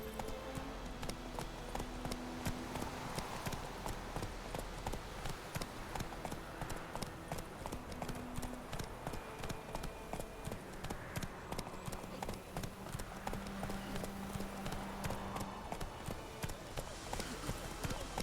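Horse galloping in The Witcher 3 video game, a fast, steady run of hoofbeats that continues throughout at moderate level, beneath a layer of ambient game music and noise.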